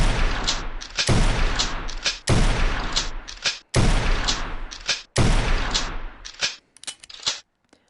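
Shotgun blasts in the VR shooting game Gun Club VR, loud and close, fired in rapid bursts with sharp breaks between volleys, and a few lighter clicks of handling near the end.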